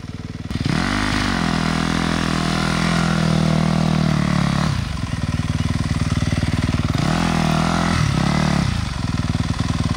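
Yamaha YZ250F dirt bike engine racing nearby, a loud continuous buzzing four-stroke note that rises and falls with throttle and gear changes over about ten seconds.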